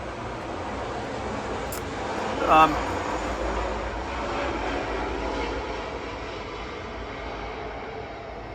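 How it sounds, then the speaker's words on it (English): A C-130 fire aircraft passes overhead as a steady, distant, low engine drone that holds for the whole stretch, with a brief clink of casting work near the start. "Yeah, got fire aircraft coming in here."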